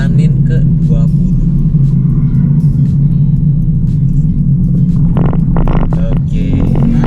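An MPV slowing from 60 to 20 km/h during a blind suspension test: a loud, steady low rumble of engine and road noise heard from inside the cabin, with people talking over it.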